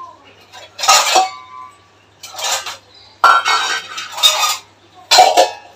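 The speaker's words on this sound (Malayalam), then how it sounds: "ഇന്നലെ കഴുകി വെച്ച പാത്രങ്ങളെല്ലാം എടുത്തത് അത് സ്ഥാനത്ത് വെക്കണം." Washed dishes and steel utensils are put away, giving several loud, close bursts of clattering and clinking pots, plates and cutlery separated by short quiet gaps.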